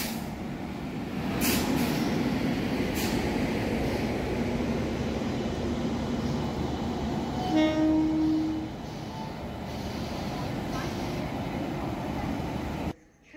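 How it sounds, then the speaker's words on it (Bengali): Rupasi Bangla Express, hauled by a WAP-7 electric locomotive, arriving at platform 2 of Santragachi Junction: a steady rumbling roll with a sustained horn blast midway and faint hissing, fairly close. "ট্রেন সবে ঢুকছে"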